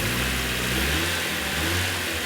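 A 1994 Mazda Miata engine, under diagnosis for extended cranking, gets a sharp throttle blip. The steady hum swells into a short rev and then settles back, loud and close, with no voices.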